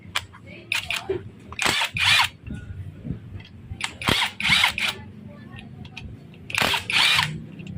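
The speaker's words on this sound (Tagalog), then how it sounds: "Gandang gamitin ng matic wrench mga idol" A cordless impact wrench rattles off Allen bolts on a noisy Kawasaki HD3 motorcycle engine in four or five short, loud, buzzing bursts separated by brief pauses, with someone talking softly between them.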